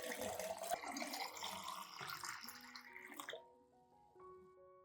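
Clean room-temperature water poured into a rice solution, a close, splashing pour that runs for a few seconds and then trails off into quieter drips and ringing.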